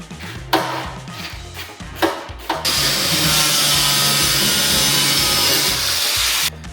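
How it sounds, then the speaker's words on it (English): A power tool saws through the plastic fender lining of a Mk5 Supra during a carbon-fiber fender install. A few short scraping bursts lead into a steady, harsh cutting whine lasting several seconds, close by, with no talking. "cut that fender lining part out"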